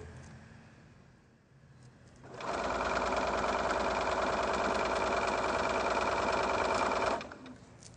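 A sewing machine stitches down a quilt in one steady, loud, continuous run of rapid needle strokes lasting about five seconds, starting and stopping cleanly against a quiet room.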